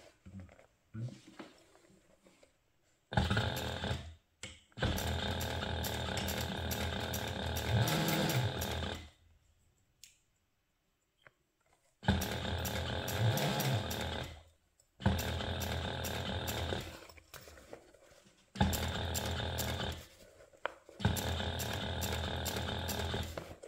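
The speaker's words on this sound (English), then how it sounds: "now I'm just going to sew this in place using a 1/4 inch seam allowance" A sewing machine stitches a seam with a 1/4 inch seam allowance on a fabric crossbody toiletry bag. Several loud, steady bursts of rapid motor-driven stitching run close up, separated by short pauses.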